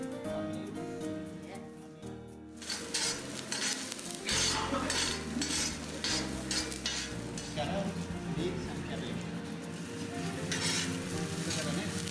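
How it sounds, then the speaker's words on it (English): Chefs cooking Sri Lankan vegetable kotu in a kitchen: after a brief musical opening, a loud steady sizzle of frying with rapid rhythmic clanks and chopping scrapes of metal utensils on the griddle, music continuing underneath. "joined the chefs in the kitchen as they made my favorite Sri Lankan dish, vegetable kotu"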